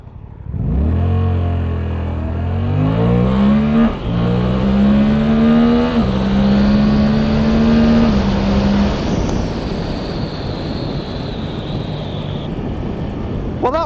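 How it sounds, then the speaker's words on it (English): Suzuki GSX-8TT motorcycle accelerating hard, its engine note rising steadily through the gears with brief dips at each shift, loud and close, then settling into a high steady cruise with strong wind rush. "I was accelerating hard, as you could probably tell."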